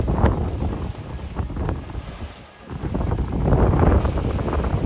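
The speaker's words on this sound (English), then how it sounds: "the wind's picked up a fair bit around this corner" Strong wind buffets the microphone aboard a racing sailing yacht at sea off Berry Head, a steady broadband roar that surges and briefly dips midway before building again, with no voices.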